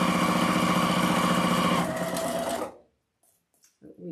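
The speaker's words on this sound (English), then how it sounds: "I'm going to go ahead and sew our coattails, that way I can get this sewing machine extender out of here" A sewing machine stitches trim along the edge of a fabric bunny wreath attachment, running loud and steady with a fast rhythmic motor buzz for over two seconds before stopping, followed by faint handling noises.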